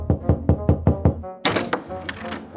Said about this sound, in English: She sighed, then knocked on the door.